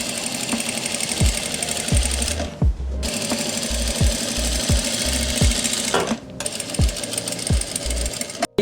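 A sewing machine stitches the hip seam of a princess-cut kurti, its steady motor whirring loud and close with rhythmic needle thumps, pausing briefly twice before running on.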